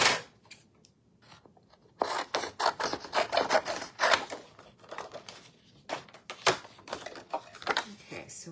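Scissors snip through a sheet of white card during a stamping craft project, giving a run of close, crisp cutting strokes with short pauses between bursts.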